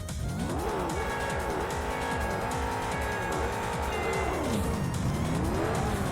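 Race cars in a sprint race against a Viper in the racing game Juiced roar steadily at high revs, with repeated gear shifts rising and falling and tires squealing, loud and close throughout.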